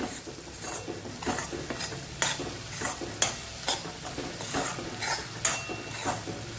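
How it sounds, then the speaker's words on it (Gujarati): Ivy gourd with gram flour is stirred in a hot pan, a spoon scraping in a steady rhythm over a soft, constant sizzle, close and fairly quiet. "થોડીવાર આપણે ટીંડોળાને હલાવશું એટલે આપણો જે લોટ છે એનો કાચો સ્વાદ ન આવે"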